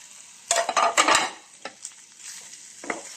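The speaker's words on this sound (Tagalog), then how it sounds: "Let's stir it." Pork frying with garlic in a pan is stirred, with bursts of scraping and sizzling in the first half of the clip, then quieter sizzling and a few lighter stirs.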